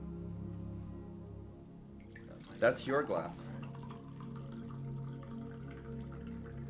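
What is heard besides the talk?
water being poured into a glass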